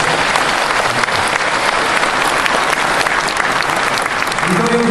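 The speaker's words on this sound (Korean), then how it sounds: "박수 한 번 보내주시기 바랍니다." An audience at a patriotic-movement lecture breaks into sustained applause, a dense, even wash of clapping lasting the full few seconds at close, steady volume.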